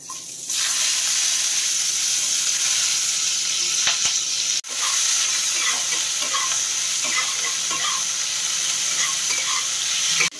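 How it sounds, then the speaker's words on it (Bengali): Onion tempering in hot oil, a loud dense sizzle that runs steadily with a brief dip midway and small crackles and stirring scrapes, close by with no speech. "পেঁয়াজ ফোড়ন দিলাম।"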